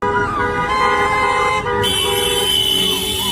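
A car horn blares in one long, steady sustained honk, loud and close, holding through the whole stretch with a slight shift in tone partway.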